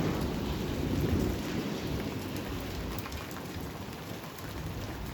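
Steady rain falls during a severe thunderstorm with 60+ mph winds and possible small hail, with low thunder rumbling in the background; the wash of rain stays constant and fairly quiet throughout.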